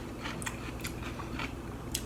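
Close chewing of a bite of southwest salad with cucumber, a few crisp crunches spaced irregularly over a quiet background.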